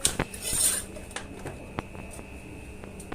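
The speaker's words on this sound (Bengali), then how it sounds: "এবার একটা ছোট্ট স্টিলের বালতিতে ডিমগুলো রাখা হচ্ছে" Eggs clink lightly against a small steel bucket. A handful of sharp metallic taps and knocks are spaced irregularly over a quiet background, with a louder rustle at the start.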